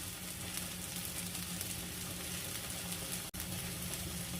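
Rice stirred in a hot pan for muri ghonto, a steady close sizzle and scrape of frying grains, continuous with one brief dropout near the end.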